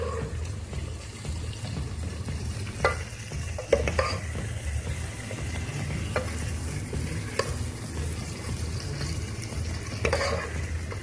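Chicken jalfrezi vegetables with tomatoes fry in a pan, a steady sizzle running throughout while a spoon stirs and scrapes with several sharper knocks against the pan, no talking.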